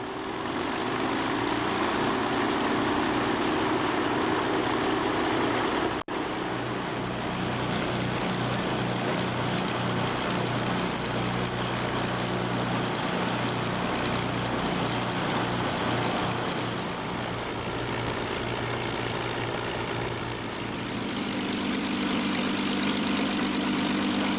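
Engines of a restored Avro Lancaster bomber run steadily and loudly throughout, a continuous low propeller-engine drone with slight shifts in pitch and no talk.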